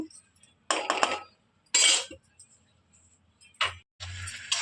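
Metal lid set on a kadai cooking tomato pieces on a stove: a few short, bright clinks and rattles come in separate bursts, with quiet gaps between them.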